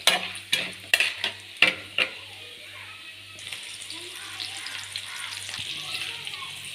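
Peanuts fry in a pan, with a series of sharp stirring scrapes and clatters at first, then a steady soft sizzle that carries on alone, close and fairly quiet.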